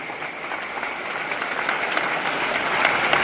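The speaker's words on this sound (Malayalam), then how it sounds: "എല്ലാവർക്കും നല്ലൊരു കൈയടി, നമ്മുടെ അധ്യാപകർക്ക് എല്ലാവർക്കും നല്ലൊരു കൈയടി കൊടുക്കാം." Students at a school class assembly applaud their teachers with broad, sustained clapping from a crowd that holds steady and swells slightly toward the end.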